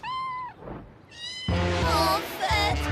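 A kitten meows repeatedly in a cartoon scene, starting with a clear, high-pitched meow. Louder, harmonically rich, wailing meows follow in close succession near the end.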